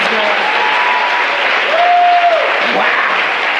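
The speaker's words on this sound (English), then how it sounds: "One more round of applause for the guys from Paul, please, guys." A live audience at an evening podcast taping claps for guests in a loud, dense, sustained wash of applause, with a voice or whistle rising briefly above the crowd.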